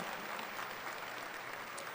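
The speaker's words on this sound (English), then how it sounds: "Please share a round of applause for their amazing instructor, Mr. Stephen Berkland, and his creative artists" Graduation crowd at a high school ceremony applauds, a faint, distant, even wash of many hands clapping that carries steadily without breaks.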